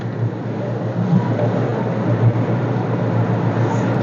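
A 1967 Firebird engine, revived after an engine failure, runs with the throttle slightly opened, producing a loud, steady, close droning rumble that holds even throughout.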